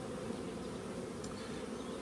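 Honey bees buzzing around a nuc hive during spring queen-cell work, a steady dense hum of many wings filling the air without pause.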